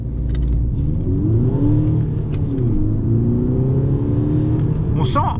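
A VW Golf 6 GTD 170 hp diesel engine revs steadily higher past about 3000 rpm as it accelerates, its pitch sweeping up, close and loud, with a continuous low rumble throughout.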